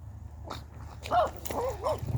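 Max, a dog out on an afternoon walk, gives a few short vocal bursts, whimpery barks or yelps, moderately close over faint outdoor background.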